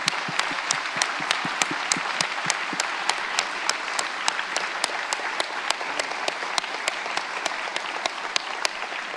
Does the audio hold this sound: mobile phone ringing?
no